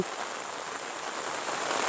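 Steady rain falls over rural Isan farmland in Thailand, a continuous even hiss of drops on surfaces that holds close and constant throughout, with no voices.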